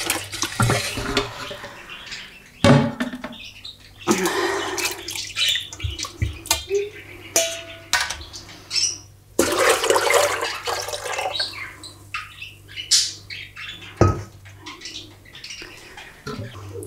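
Pomegranate dye liquid is poured through a sieve into a pot, with splashing, trickling pours and gushes in bursts alongside clinks and scrapes of pots and utensils, close and fairly loud.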